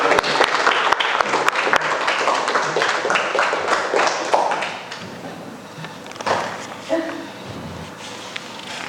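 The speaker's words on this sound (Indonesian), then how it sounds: "jadi bisa kita beri aplaus kepada kalian" Students applauding in a school classroom, a dense patter of claps lasting about five seconds, then fading into scattered taps, thumps and faint shuffling.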